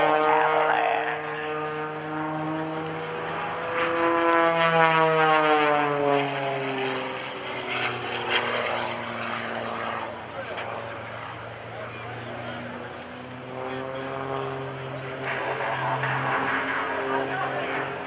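A propeller aerobatic airplane flown by Kevin Coleman tumbles nose over tail at the NAS Oceana airshow, its engine droning and shifting in pitch, loud and continuous, while an announcer talks over it.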